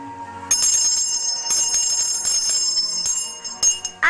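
A heavy bell ornament rung repeatedly by hand, clear bright jingling strikes in quick succession, close and fairly loud.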